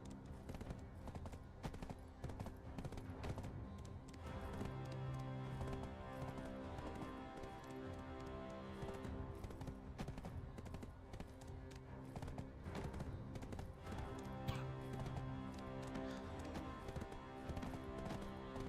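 Hooves clip-clop in a fast, steady galloping rhythm over layered game music and effects in Black Desert Online, continuing without pause.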